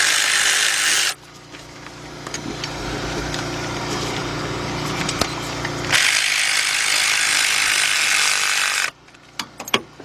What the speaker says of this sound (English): grab your big bill ratchet